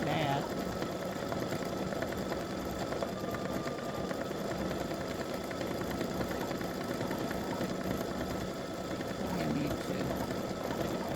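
An embroidery machine stitches stars onto a patriotic baseball-themed mug rug, giving a continuous, fast mechanical whirring hum throughout, with a voice talking softly over it.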